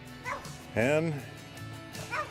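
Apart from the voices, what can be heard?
dog barking and yipping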